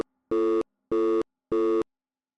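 Telephone busy signal after a call cuts out, three loud identical tone bursts evenly spaced, then silence.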